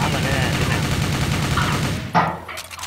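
Rapid bursts of gunfire in CrossFire, a video game, rattle continuously for about two seconds, then cut off, leaving a single sharp shot and a quieter tail.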